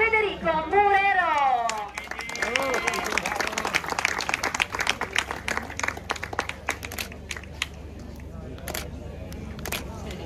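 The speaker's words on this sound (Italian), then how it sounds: "Signori, un applauso per Federico Murero!" Spectators applaud at the finish line of a sprint duathlon at Manerba del Garda, an announcer's voice opening before scattered, uneven clapping carries on outdoors with a low background rumble.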